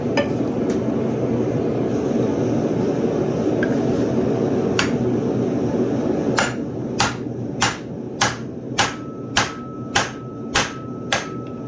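Hot steel is hammered against an old axe head clamped in place as a hot cut while a bottle opener is forged. About ten sharp, ringing strikes come in a steady rhythm over a continuous background roar.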